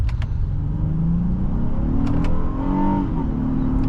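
A 2019 Honda Passport Touring with a 3.5-liter V6 VTEC engine heard from inside the cabin while driving, a loud steady low engine drone rising in pitch as it accelerates, with a few brief ticking clicks.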